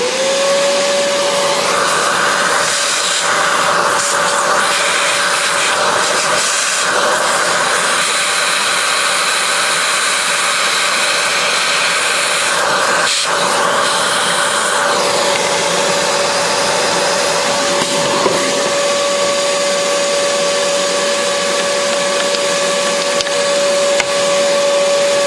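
A vacuum cleaner runs continuously, loud and close, while it cleans a Macap M4 coffee grinder. Its steady whine shifts slightly in pitch as the nozzle moves around the grinder.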